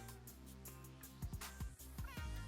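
A cat from the video game The Sims 3 Pets gives several short meows in quick succession over soft, steady game music.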